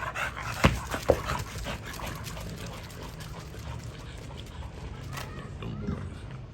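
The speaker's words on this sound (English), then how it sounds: "this is how I like to have my dogs all out, running around, playing with each other" Several dogs pant heavily while running around and playing together outdoors, breathy and close, with a couple of sharp thumps near the start and steady rustling noise throughout.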